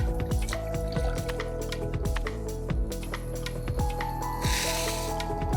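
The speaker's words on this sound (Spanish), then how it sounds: "Ponemos la leche en una cazuela." Milk poured into a saucepan makes a liquid glugging and splashing with light drips, over background music.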